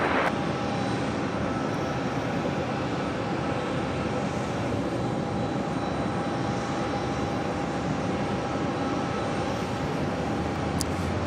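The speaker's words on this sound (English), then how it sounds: "Next arrival on 4 right to Brussels Airlines. Flight 501 coming in from Brussels, A330-300." A Brussels Airlines Airbus A330-300 arrives at JFK, its jet engines a loud, continuous broadband roar with a steady whine, holding level throughout.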